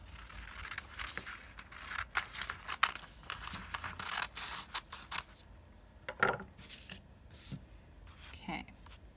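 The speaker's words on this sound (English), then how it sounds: "I'm going to cut this rectangle out so I only have my triangle" Scissors cutting a rectangle out of folded paper, a series of close, sharp snips and crisp paper rustles in an irregular rhythm, with a few soft breaths or murmurs between cuts.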